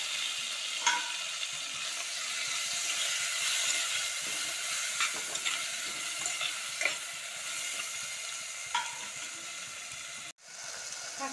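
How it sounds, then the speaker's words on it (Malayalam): Chopped tomatoes sauté in a pan for a bottle gourd and dried shrimp curry, giving a steady sizzle broken by scraping stirs and occasional utensil clinks, close and continuous with no talking. "ഇനി നമുക്ക് ഈ മുറിച്ച് വെച്ചിട്ടുള്ള തക്കാളി ഇതിലിട്ടിട്ട് ഒന്ന് വഴറ്റി വരും."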